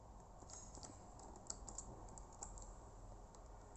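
Typing code on a computer keyboard while writing a Python user input program: steady, quiet clicking of keys in an irregular rhythm, with a few sharper taps standing out, alone without any talk.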